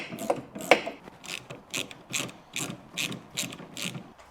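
A ratchet tightens screws on an Audi TT headlight level sensor, producing about ten evenly spaced, close clicking bursts in a steady rhythm with no voices.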